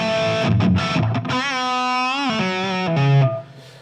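A high-gain distorted electric guitar through a Fractal preset with medium plate reverb, a few quick picked notes followed by a long sustained chord that rings out and trails into reverb, loud and alone.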